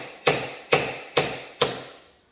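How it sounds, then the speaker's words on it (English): Four sharp, evenly spaced hammer blows pound on the axle studs of a Yamaha Raptor ATV, each a hard metallic strike with a brief ringing decay, close and alone. "I would pound on the back of these studs"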